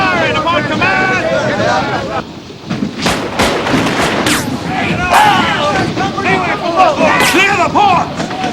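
Cannon fire from Union troops at Newport News Point booms in repeated heavy blasts under loud shouting voices and constant wind-like rumble, the shots coming in a ragged series.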